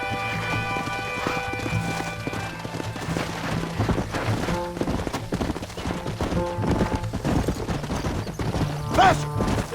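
Horse hooves pound at a gallop in Red Dead Redemption, a continuous fast clip-clop over a musical score, with scattered gunfire-like cracks and a short high whinny near the end.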